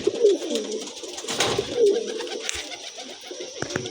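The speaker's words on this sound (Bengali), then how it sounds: "ওই দেখুন আমাদের বলা যায় পায়রাটা।" A pigeon coos on a tiled roof, two low throaty calls close by against faint background rustle, with no speech.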